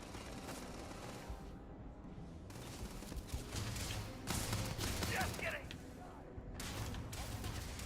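Gunfire in zero gravity in the Starfield video game comes as quiet bursts of rapid shots under game ambience and talk, with a louder cluster of shots midway.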